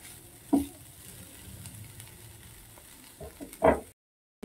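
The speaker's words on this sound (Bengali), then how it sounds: "একটু নেড়ে নেবো সামান্য।" Rice flour and coconut filling stirred in a pan over a low flame: a faint, constant soft sizzle carries two distinct scrapes of the spoon, one early and one near the end, with no speech.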